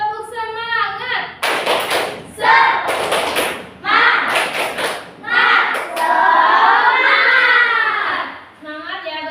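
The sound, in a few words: children clapping along to a classroom clapping chant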